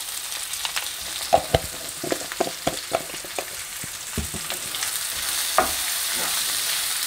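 Masala dosa filling fries in a pan with turmeric and salt, giving a steady sizzle under a run of clattering stirs and scrapes that thin out toward the end, with no speech.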